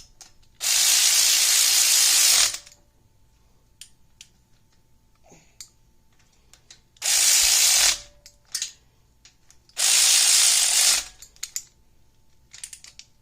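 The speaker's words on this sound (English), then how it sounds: "Now we can take our little electric ratchet. run these in." Small electric ratchet driving bolts into freshly cleaned engine accessory brackets, three loud whirring runs of one to two seconds each, separated by quiet gaps with light metallic clicks and handling noises.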